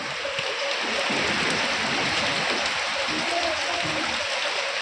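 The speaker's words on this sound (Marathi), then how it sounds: "पाऊस आला बाई" Steady, dense rain falls continuously with an even hiss, fairly loud and close, with no pauses or breaks.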